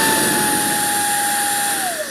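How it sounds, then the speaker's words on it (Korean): A 40V cordless rechargeable air duster gun blows air at its lowest setting, producing a steady, close whine and rushing airflow; the pitch dips slightly as it eases off at the end. "트리거를 당기면 이렇게 바람이 나가는 방식인데"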